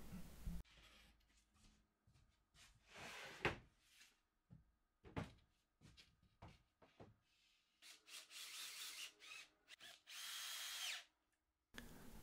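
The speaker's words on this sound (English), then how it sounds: "get those screws driven into place" Power drill driving screws into the glued wooden panels of a blanket chest, several short whirring bursts separated by pauses, then longer sustained runs, close and fairly loud with no talking.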